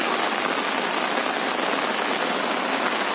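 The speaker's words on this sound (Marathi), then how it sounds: "सतत असा पाऊस पडतच आहे" Steady, heavy rain falls continuously across open paddy fields in Naigaon, Vasai, a dense, even hiss with no pauses and no voices.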